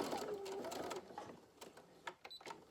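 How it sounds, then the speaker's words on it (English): A sewing machine runs a short back stitch on cotton fabric in a quick rapid burst, then stops for a few separate clicks and taps, close and fairly quiet, with a faint voice in the background. "I'm going to do a little back stitch here."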